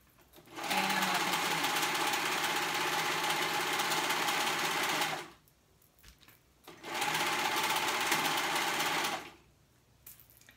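A serger runs in two long, fast bursts, a loud, dense whirring buzz with steady motor drone. Between the bursts come a short pause of quiet handling clicks and a final stop.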